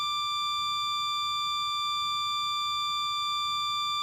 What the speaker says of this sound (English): the alarm sounds as his vital signs diminish to a flat line